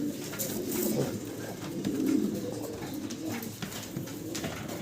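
Male fancy pigeon cooing repeatedly in soft, throaty bursts, close and fairly steady, with faint ambient noise around it.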